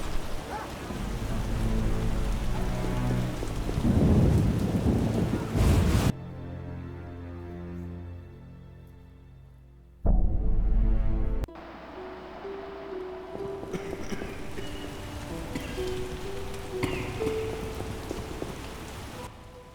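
Steady heavy rain falls in The Witcher video game, pattering loudly with low thunder rumbles, cutting out abruptly around six seconds, returning briefly near ten seconds, then resuming as softer rain with ambient tones.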